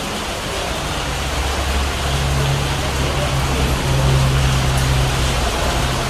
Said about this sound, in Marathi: पाऊस पडतोय, दाखवते तुम्हाला.